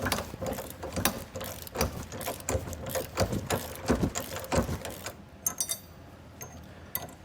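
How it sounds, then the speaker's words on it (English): Wrench loosening the nut on a trailer hitch ball mount, rapid ratcheting clicks in quick bursts close by, then a few sparse clinks as the work pauses near the end. "we'll get our wrench on and just loosen that up"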